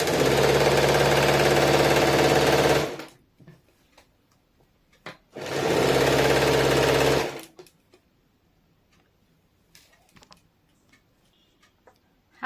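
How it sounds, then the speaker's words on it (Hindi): A sewing machine runs a palazzo seam in two steady bursts of fast, loud, close stitching, each about three seconds long, with quiet gaps between them. "सबसे पहले 1/2 इंच पे सिलाई डाल देंगे, फिर उसके बाद और एक बार डाल देंगे।"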